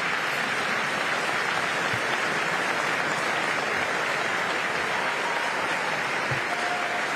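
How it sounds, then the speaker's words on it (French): Sustained dense applause with some cheering from a room of journalists at the first press audience of Pope Leo XIV, a steady loud wash of clapping throughout. "Il y a quelques acclamations malgré tout."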